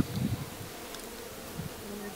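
Honeybees buzz at the hive, a faint, steady drone with a few brief nearer passes over quiet outdoor background.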